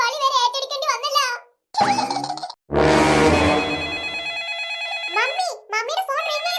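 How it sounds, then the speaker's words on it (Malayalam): A mobile phone rings with a bright electronic ringtone that repeats and sustains, loud and close, while someone speaks before and after it. "മമ്മി, മമ്മിയുടെ ഫോൺ റിംഗ് ചെയ്യുന്നു."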